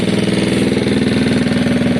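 A Gilera DNA scooter engine runs on its stand, a loud, steady, pulsing mechanical drone with a throbbing beat and no clear rise in pitch.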